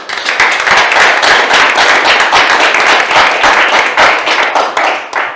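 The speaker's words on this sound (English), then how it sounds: "I'd like to call for a round of applause for those young men" City council meeting audience applauding a group of young football players, steady loud clapping from many hands that fades slightly at the end.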